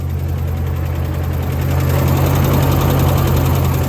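A Ram truck engine with a worn cam and lifters idles up close, a loud, steady low rumble with a continuous rough ticking knock and no voices.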